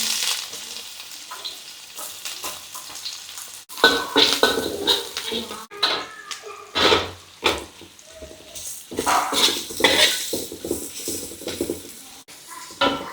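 Onion, garlic, shallot and scallion sizzle and fry in a hot pan, with steady crackling broken by repeated scraping and stirring strokes of a utensil against the pan, close and loud.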